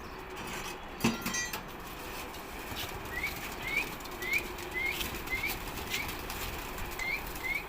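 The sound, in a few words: pigeons flapping wings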